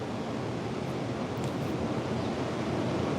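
Big surf crashing onto the shore at Panama City Beach, Florida, forming a continuous loud hiss and rumble of breaking waves, with wind mixed in and nobody talking.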